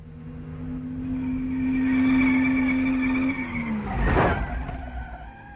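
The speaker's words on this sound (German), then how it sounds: "er gibt Gas, der Motor kommt auf Touren, wie ein Rennfahrer saust er in die Kurve und schneidet sie." A car engine revs and climbs in pitch as it speeds into a curve, then a loud, harsh tire squeal bursts out near the end before fading. The recording is from a 1946 road-safety film.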